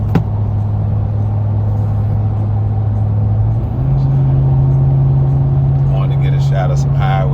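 Cabin drone of a 2021 Ram 1500 Limited with factory air ride on 33x12.50R22 tires cruising at highway speed, a loud steady low rumble with road and engine hum that shifts pitch midway, constant throughout.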